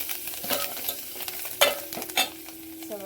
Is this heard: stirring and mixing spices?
yes